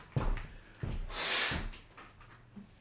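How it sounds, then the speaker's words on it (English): A person blows their nose in a few short, sharp nasal bursts followed by a longer hissing blow, close and fairly quiet, with no talking. "I just have to blow my nose."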